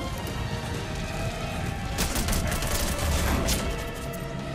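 Mortar fire in Metal Gear Solid 5 multiplayer: a dense, loud barrage of blasts and crashing impacts, heaviest around the middle, over continuous game noise.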